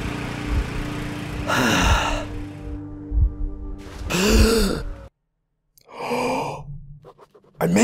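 A character gasps for breath while under attack in the marshes of Metro Last Light Redux, a series of loud, close, ragged gasps and sighs broken by brief silences.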